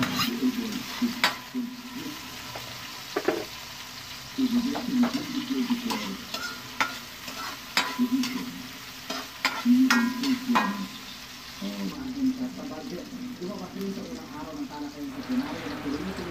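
Tomatoes and onions fry and get stirred in a pan, a steady sizzle broken by scraping and clinking stirs, while someone talks over the cooking.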